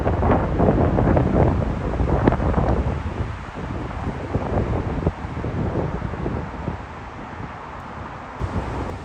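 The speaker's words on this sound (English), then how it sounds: "Sorry about the wind noise, it is super windy out here today." Strong gusts buffet the microphone on a windy golf course, a loud continuous low roar rising and easing for several seconds with no talk.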